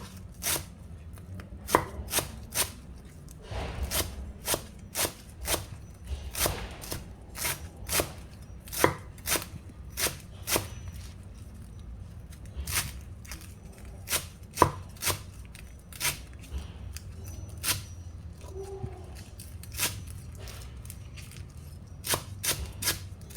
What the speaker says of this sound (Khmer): យើងហាន់ជាសរសៃបែបនេះទៅ